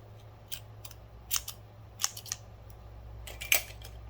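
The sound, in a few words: scissors cutting purple yarn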